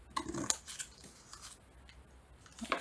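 Scissors snipping a small triangle from the corner of a journal cover, a few quiet crisp cuts close up in an otherwise hushed room.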